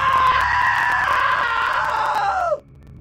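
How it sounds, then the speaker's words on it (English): A woman's long, loud, sustained scream in the What Remains of Edith Finch video game, held steadily for over two seconds before breaking off abruptly, heard alone without talk. "Now that was a great scream"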